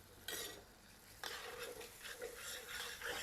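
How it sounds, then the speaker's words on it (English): Minced garlic going into vegetables frying in a pot for a small Cajun jambalaya, with a spoon scraping and stirring in bursts over a steady sizzle. "I'm gonna add a little bit of minced garlic to it."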